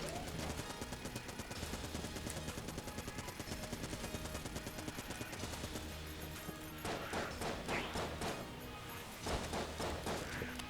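Rapid, dense gunfire from a gun in the video game Enter the Gungeon, continuous bursts layered over game music and effects, with sharper crackling volleys toward the end.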